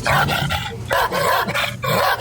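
A video game dog barks loudly and close in four rapid, harsh, growly barks with a steady game soundtrack behind them.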